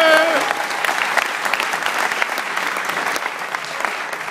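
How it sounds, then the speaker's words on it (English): A conference audience applauds the cameraman with dense, sustained clapping that stays fairly loud throughout, and a brief tone sounds at the start. "Round of applause for the cameraman, please."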